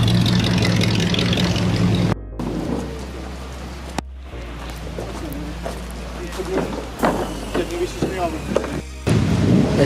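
Heavy rain pouring down steadily at an outdoor car meet, a dense hiss broken by abrupt cuts, with voices talking over it.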